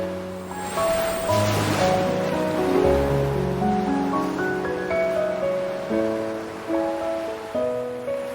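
Ocean waves in the video game Love and Deepspace wash steadily beneath a loud musical score, the surf a continuous soft wash with no talking.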